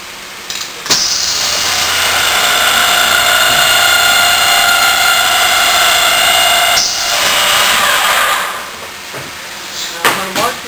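Marcon M6000 boring machine drilling holes, a loud steady whining hiss that holds for several seconds, then dips, resumes and cuts off, with a few clanks at the end.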